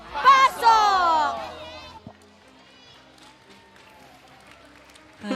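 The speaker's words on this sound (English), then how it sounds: "with an amazing crowd cheer battle that went throughout of everything" A crowd at a Mobile Legends esports playoff event yells and cheers loudly in a short burst that quickly dies down to a quiet murmur.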